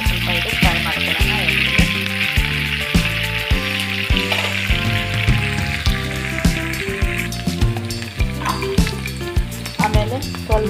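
Onions frying in a pan until golden brown, a loud, close, steady sizzle with rhythmic stirring scrapes and clanks of a utensil against the pan throughout.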